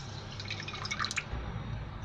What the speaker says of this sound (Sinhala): ඒකට වතුර කෝප්ප භාගයත් එකතු කරගන්නවා